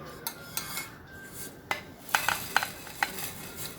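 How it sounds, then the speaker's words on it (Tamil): Flattened rice (aval, poha) is dry roasted in a pan, giving soft scraping and stirring with light, irregular clicks of a spatula against the metal, close and quiet, with no talk. "அதை இந்த பேனில் நம்ம வறுத்து எடுத்துக்கலாம்."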